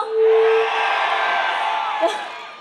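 A festival crowd at an outdoor media culture event roars with loud, sustained cheering and shouting, a dense wall of voices that swells quickly and then holds.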